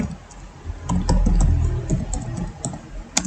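Keys clicking on a computer keyboard while commands are entered in a MySQL command-line window, a steady stream of light taps over a low hum, ending with one sharper keystroke.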